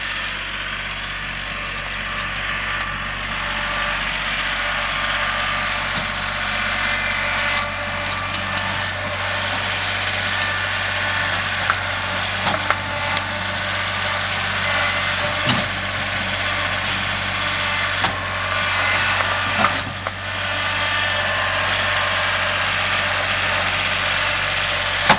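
A Kubota L3301 HST diesel tractor engine runs steadily and loudly up close, with a constant low drone and scattered cracks and knocks of wood as a log is pushed.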